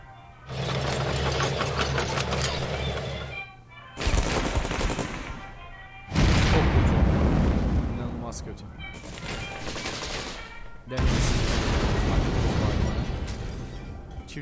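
Artillery fire and explosions in the card game KARDS, with dense, loud bursts of booming gunfire in several long barrages separated by brief gaps. Speech may also be present.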